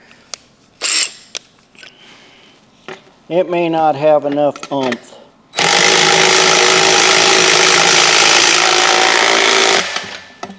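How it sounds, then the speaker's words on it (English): A power drill whirs loudly and steadily for several seconds after a few clicks and a short spoken comment. "Let's see if this drill will actually do it."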